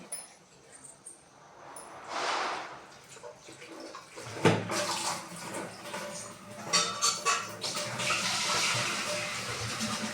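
Water from a tap pours into a metal kalashi water pot at home. A soft trickle turns into a steadier, louder rushing splash after a few seconds and continues throughout.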